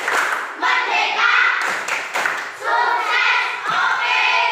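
A group claps out a rhythmic classroom cheer in short bursts, with voices chanting along in time and brief pauses between the phrases.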